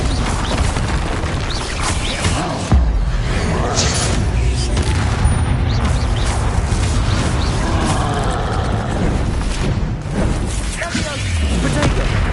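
Bombarda spell explosions in Hogwarts Legacy combat: loud, dense booms and rumbling blasts layered over constant battle noise, with a heavy hit near the three-second mark.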